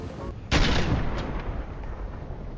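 A hunting rifle in a video game fires a single loud, sharp shot with a long booming tail that fades over a couple of seconds, with no talk over it.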